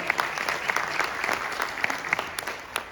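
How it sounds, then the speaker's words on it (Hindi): An audience at a sales success seminar in Delhi claps for the management, a steady, dense round of applause held at even loudness throughout with sharp individual claps poking out, no talking. "मैनेजमेंट के लिए एक जोरदार ताली बजाने का चाहूंगा"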